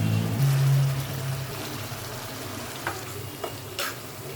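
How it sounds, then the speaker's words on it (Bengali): An egg goes into hot spiced oil in a pan and fries with a steady sizzle, broken by a few scraping stirs near the end, with no speech. "মশলাটা কষানো হয়ে গেছে, তেলটাও করে উঠে আসছে, এখন হচ্ছে ডিমটা দিয়ে দেব।"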